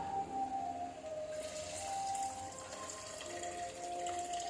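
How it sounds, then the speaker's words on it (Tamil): Tamarind water pouring and trickling steadily into a pan of fish curry close by, with a faint ringing hum in the background and no talking. "கரைச்சி வச்சுருக்க புளி தண்ணி அதில் ஊற்றியாச்சு"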